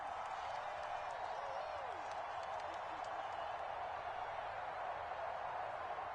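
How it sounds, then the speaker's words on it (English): In an American football video game, a stadium crowd keeps up a faint, steady roar of cheering and applause from a distance, running the whole time without clear peaks. "Crowd getting in it a bit already."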